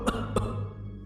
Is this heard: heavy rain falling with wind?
no